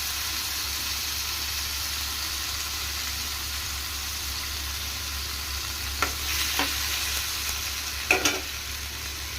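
Finely cut ripe tomatoes cook in a pan for chutney with a steady sizzling hiss, and a few light stirring scrapes come near the end. No one talks.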